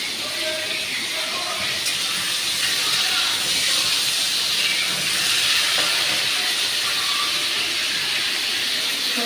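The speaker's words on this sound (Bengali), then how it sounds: "চিংড়ি মাছটা কিন্তু ভাজা করে নিচ্ছি" Prawns fry in a pan with a steady, loud hiss and crackle of oil lasting throughout, close and continuous with no talk over it.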